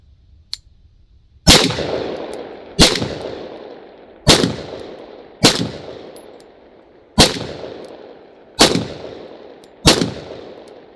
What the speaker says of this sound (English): Going to decock it, take that first double action shot.